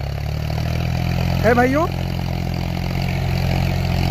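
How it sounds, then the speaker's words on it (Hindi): A Mahindra Yuvo 575 tractor engine runs steadily nearby with a deep, even low-pitched drone. Someone briefly speaks over it partway through. "क्या शानदार आवाज़ के साथ ये ट्रैक्टर चल रहा है"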